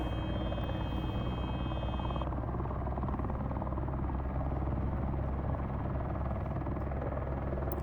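A helicopter in a flight simulator game spooling up and taking off, with a loud, steady rotor and turbine drone throughout and a brief high whine at the start.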